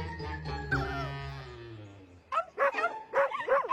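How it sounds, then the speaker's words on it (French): Small dogs yip and bark in quick high bursts after a stretch of low tones, fairly close and moderately loud. "Vous entendez? Ce sont les autres petits chiens."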